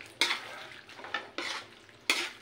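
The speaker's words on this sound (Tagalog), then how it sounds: "haluin ko muna ng haluin" A spoon scrapes through thick menudo in a cooking pot in four separate strokes with short pauses between them, over a faint low background hum.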